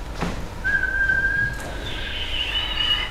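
A thin, steady whistle tone made by inhaling through a whistle mouthpiece holds for about a second, then shifts into a higher, wavering whistle that continues faintly to the end.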